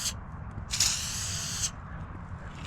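Two short bursts from a Dang Prime spray paint can, a brief hiss then a longer steady spray of about a second, over a low background rumble.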